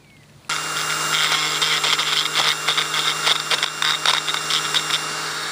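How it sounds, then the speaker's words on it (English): A small handheld rotary tool spins with a gouging bit to scrape old glue, starting abruptly and then running as a steady high whine with grinding bursts as the bit bites into the surface, close and continuous without talk. "removing the glue with my little rotary tool"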